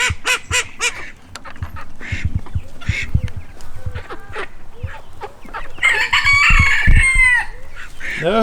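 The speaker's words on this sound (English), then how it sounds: "try to catch some more chickens." Busy chorus of chickens clucking with a rooster crowing loudly near the end, plus duck-like quacks scattered throughout, dense and close.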